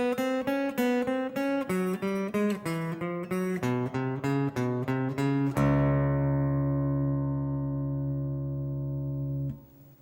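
Electric guitar run from a song, starting in fifth position: a quick string of picked single notes, then a final note left ringing for several seconds before it is cut off, played alone.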